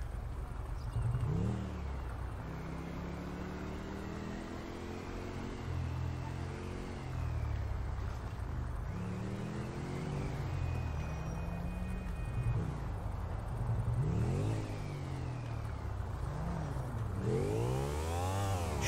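A Yamaha Aerox scooter engine in the video game GTA 5 revs repeatedly, its pitch climbing and dropping in several rising sweeps over a constant droning hum, loud and close throughout.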